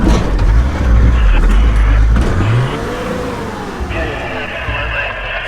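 Turbocharged TD42 Nissan Patrol crawling off-road in low range second gear, its engine rumbling loud and close at first, then easing to a steadier drone, with voices talking over it.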